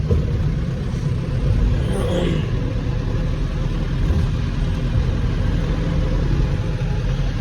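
A truck engine rumbles steadily at idle and low revs while the truck moves through a gate, with a broad, continuous low drone throughout and no talk.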